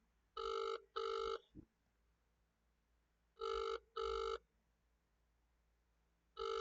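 Telephone ringback tone on an outgoing call to a mobile network, three pairs of double rings with pauses between them, clear and fairly quiet with no talking over it.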